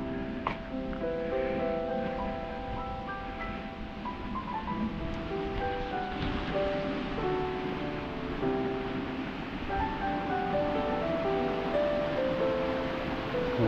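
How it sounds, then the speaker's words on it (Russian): A small waterfall in a park in Peterhof's Meadow Park gives a steady, broadband rush of falling water throughout, close and fairly loud, with faint tonal background sounds layered underneath. "Водопадик."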